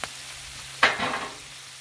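Bacon fries on a griddle with a soft steady sizzle, then a brief louder burst of spatter near the middle that fades back to a low hiss.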